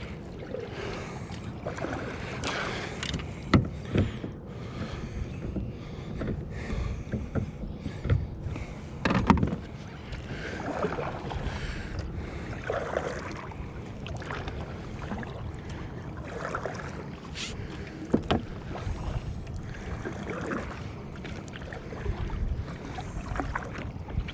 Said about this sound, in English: Now we're just gonna paddle over.